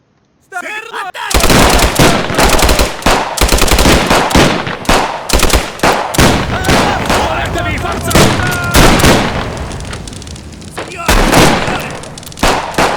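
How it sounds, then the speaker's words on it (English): Alpine machine gunners in the MOWAS 2 interwar 1927-1939 mod open up with loud, sustained machine gun bursts. Booming impacts mix into the chaotic battle din. "Let's go with the machine gunners."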